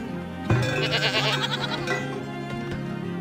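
Goats bleating in a goat barn in Farthest Frontier, a loud nearby bleat starting after half a second followed by a few shorter wavering calls, with a steady background hum.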